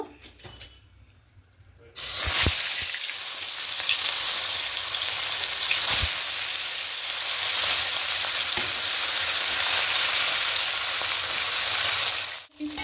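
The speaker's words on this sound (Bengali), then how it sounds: "লাল করে ভেজে মাছগুলো ভাজা হয়ে গেছে," Fish pieces frying in hot oil in a pan for a Bengali fish shukto. Quiet at first, then a sudden loud, continuous close sizzle bursts in and holds steady, with a few stirring clicks.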